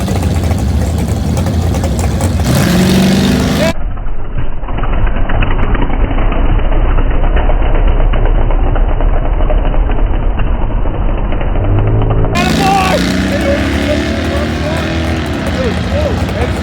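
A cheap old farm truck bought for $300 runs loudly and steadily, its engine note continuous and close throughout, with voices talking over it.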